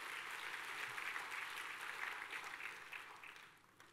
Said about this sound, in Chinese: 再一次给我们爱多美的董事长哦一个热烈掌声哦。